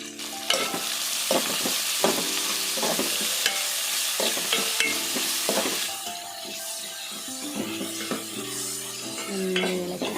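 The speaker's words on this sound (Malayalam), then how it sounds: "നന്നായി ഇളക്കി വഴറ്റിയെടുക്കുക." Onions are stirred and sautéed in coconut oil for a beef roast, giving a close, continuous sizzle punctuated by frequent spatula scrapes and knocks against the pan, with faint background music in the latter part.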